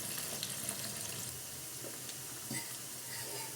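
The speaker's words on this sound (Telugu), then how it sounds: "లో ఫ్లేమ్లో గోల్డెన్ బ్రౌన్ కలర్ వచ్చే వరకు వీటిని ఫ్రై చేసుకుందాం." Ingredients for mutton pickle fry in oil over a low flame until golden brown, giving a soft, steady sizzle with faint crackles, quiet and close, no voices.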